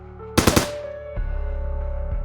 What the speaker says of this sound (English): And then, a gunshot.